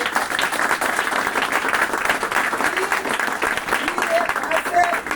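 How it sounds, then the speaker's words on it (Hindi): An audience at a Vestige marketing seminar breaks into loud, sustained applause for the company's managing director and directors, a dense wash of many hands clapping with a voice faintly audible beneath it. "मैं चाहूंगा दोस्तों एक जोरदार तालियां होनी चाहिए"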